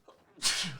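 A single person's sneeze, a soft indrawn breath followed by one sharp, loud, close burst that fades quickly.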